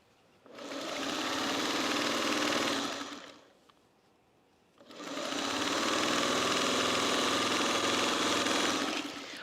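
A sewing machine stitches a seam in two long continuous runs, loud and steady, with a brief pause between them; no talking.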